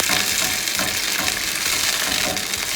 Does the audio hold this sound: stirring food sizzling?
yes